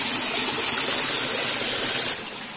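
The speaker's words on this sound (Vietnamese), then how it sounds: "Đi lên dòng nước suối nhỏ này nè." A small mountain stream flows close by, giving a loud, continuous gush of water that eases slightly near the end, with no speech.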